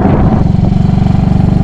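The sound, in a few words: motorcycle engine running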